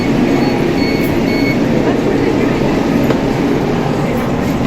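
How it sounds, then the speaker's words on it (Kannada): A fast train at Yeshwantpur Railway station runs past, heard as a loud, continuous rumble and rattle with no break and no clear talking. "ಫಾಸ್ಟಾಗಿರುವಂಥ ಟ್ರೈನು"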